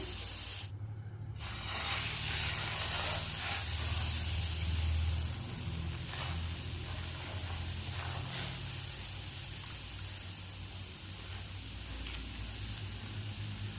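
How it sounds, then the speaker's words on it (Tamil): Rava dosa batter poured onto a hot stone griddle hisses with a steady, continuous sizzle throughout, close and fairly loud, with no talking. "பாருங்கள், கல் நல்லா சூடாக இருக்குது. நம்ம தோசை ஊற்ற ஆரம்பிச்சிடலாம்."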